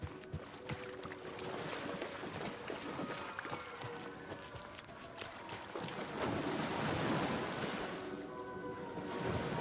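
Splashing and sloshing as a character wades deep across a river in Alan Wake 2, a dense, uneven churn of water that surges louder toward the end, heard without talking.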